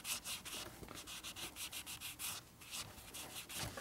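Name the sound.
rubbing engine cases clean with an abrasive pad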